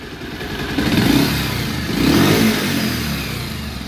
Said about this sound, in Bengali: ইঞ্জিনের সাউন্ড তো আপনারা শুনতেইছেন, খারাপ আছে